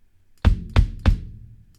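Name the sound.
oyster kick drum preset in Modo Drum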